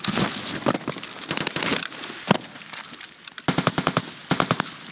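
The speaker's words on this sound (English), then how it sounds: "We can hear a lot of gunfire." Near a sawmill in the shooter Escape from Tarkov, automatic weapons fire in repeated rapid bursts, clusters of sharp cracks separated by brief pauses, with a few louder close volleys among the more distant shooting.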